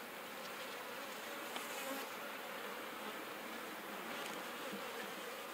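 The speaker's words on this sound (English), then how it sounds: "Well, this hive's doing well. I can't bash these bees." A dense, steady buzz of many honeybees fills the air at an open horizontal hive, a close continuous drone with no voices.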